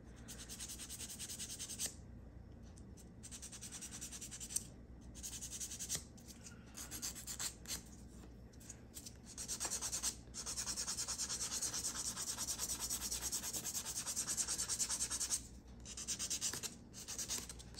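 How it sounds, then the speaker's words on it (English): Steady scratchy rasping of a file or buffer rubbed back and forth across fingernails during a dip-powder manicure, continuous and close, with brief pauses between passes. "once you've done this process of sanding everything down"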